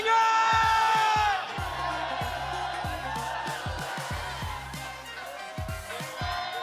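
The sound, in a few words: crowd cheering at esports event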